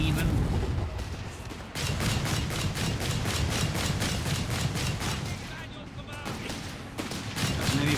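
Heavy automatic gunfire in the strategy game Company of Heroes 3 rattles in rapid, repeated bursts with a brief lull midway, mixed with distant battle booms, while a commentator talks over the fighting.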